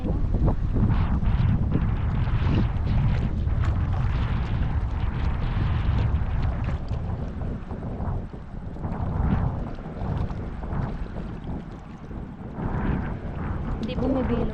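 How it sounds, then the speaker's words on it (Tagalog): Steady gusty wind at sea buffets the microphone in a continuous low roar, with voices talking intermittently beneath it. "Mahangin."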